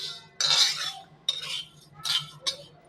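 Urad dal and red chillies roasting in a pan for shenga chutney, stirred with a metal spoon in four distinct scraping, clinking strokes, close and fairly loud, with no talk.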